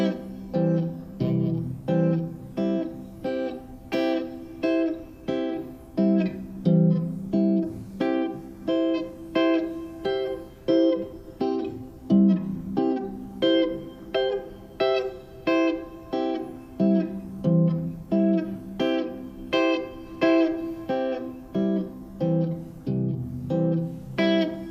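Guitar plays closed-voiced triads in a steady rhythmic pattern, descending and then ascending through the shapes, each chord struck clearly and alone with no talking.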